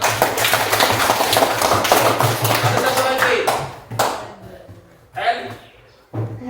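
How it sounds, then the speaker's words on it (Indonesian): Students clap during a physical education lesson, a dense burst of hand claps lasting a few seconds that thins out and stops, followed by a teacher speaking and a couple of short thuds. "Terima kasih tepuk tangan buat"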